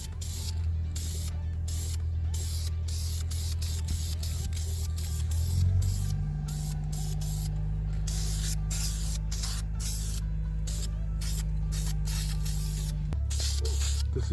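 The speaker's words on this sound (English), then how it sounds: "now we're going to paint it." Aerosol spray paint hisses onto a Smart car's rear drum brake in repeated short bursts, loud and close, with a steady low mechanical hum running beneath.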